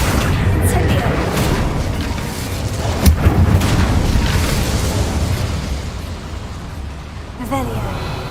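Incendio fire spell cast in a Harry Potter-style video game, a sudden booming burst of flame that rises sharply out of a dense, continuous game soundscape with a softer whoosh trailing after.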